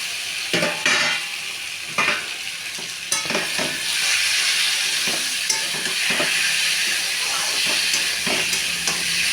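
Potatoes fry in a hot pan, giving a steady, close sizzling hiss with scattered stirring clicks and louder crackles in the first few seconds.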